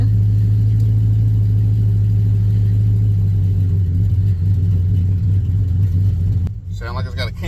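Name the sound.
Chevy 5.3 V8 engine running with ghost cam tune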